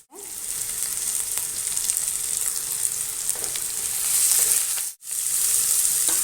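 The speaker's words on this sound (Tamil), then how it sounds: "இப்போ வெங்காயத்தை போட்டு வதக்கிக்கிறேன்" Onions sautéing with ginger, garlic and urad dal in hot oil in a pan, a steady close hiss of frying that swells slightly near the end, briefly cut off once, with faint stirring and no speech.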